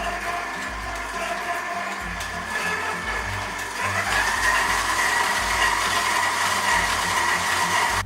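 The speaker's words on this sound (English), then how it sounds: "you're just going to put it in a mixer with the whisk attachment and beat it until it's smooth" A stand mixer with a whisk attachment beats cream cheese with a steady motor whir. It runs continuously, close and fairly loud, and grows slightly louder partway through. No one speaks.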